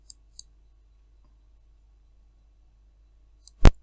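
Mouse clicks in a quiet room: two soft clicks near the start, then after a long silence a faint click followed by a sharper, louder one near the end.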